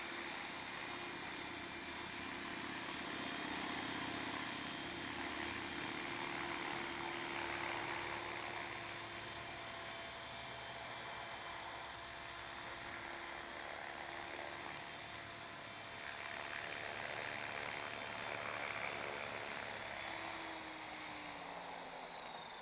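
An HK 500GT RC helicopter runs steadily through a test, its high rotor and motor whine holding close and loud for the whole stretch, with a faint pitch shift near the end.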